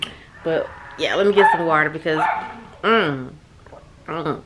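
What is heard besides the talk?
dogs barking and fighting outside a bedroom door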